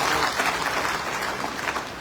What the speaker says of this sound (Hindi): एक बार इनके लिए जोरदार ताली हो